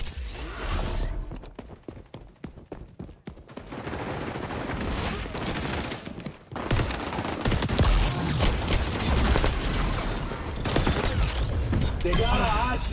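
Gunfire from flame bullets in the video game XDefiant, with rapid rattling bursts and volleys of shots filling most of the stretch, a brief lull near the middle, and voices talking over the action.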